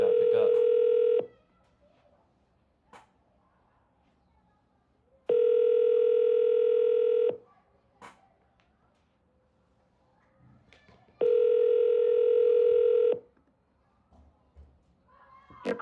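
An outgoing phone call rings out with a ringback tone: three long steady tone bursts of about two seconds each, separated by roughly four-second pauses, clear and close with faint background noise between them.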